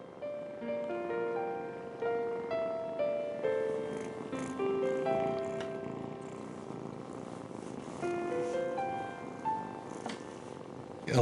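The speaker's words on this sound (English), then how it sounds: "They all kind of wormed around and meowed and purred and suckled" Several young kittens purr steadily and give repeated small meows, close and fairly soft, with no talking.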